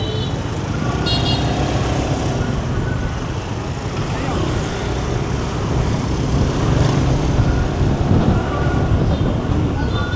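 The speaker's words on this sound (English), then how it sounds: "So cool, the motorbike." A motorbike rides through busy Saigon city traffic, its engine drone blending with steady wind buffeting on the microphone and the rumble of surrounding vehicles, continuous and close throughout.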